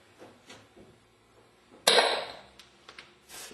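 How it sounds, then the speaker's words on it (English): A hammer strikes a screwdriver on the corroded motor plate of a Meyer E-60 snow plow pump: a few light metallic taps, then a sharp, ringing metal strike, followed by softer clinks and one more clanking hit. "we start with our hammer and screwdriver to remove this motor plate"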